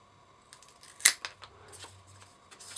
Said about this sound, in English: I'm just going to cut some squares of this